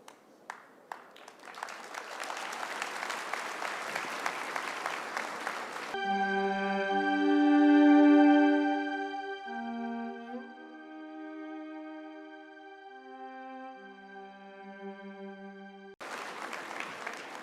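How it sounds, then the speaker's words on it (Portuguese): An audience at a church sermon claps in a dense burst that stops abruptly, gives way to a sustained sung or tonal passage, then breaks out again briefly at the end. "Eu não sei por que você aplaudiu"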